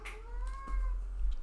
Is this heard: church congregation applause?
no